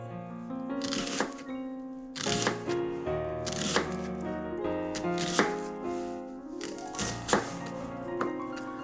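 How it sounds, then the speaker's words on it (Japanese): Thin slicing of an onion with a kitchen knife, a few clustered bursts of quick chopping strokes on a board, fairly close, over steady background music. "玉ねぎを薄く切りましてですね"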